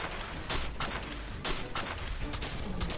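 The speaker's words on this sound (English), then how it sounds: "Let's shoot him in the tail." Rapid bursts of gunfire from a drum-magazine gun in Fallout 4, loud and close, with several clustered volleys cracking over a dense background of combat noise.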